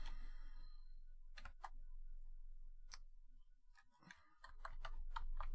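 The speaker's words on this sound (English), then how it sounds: "I'm just typing" Keys on a computer keyboard are tapped in scattered, uneven clicks, sparse at first and then quicker, close and fairly quiet with no talking.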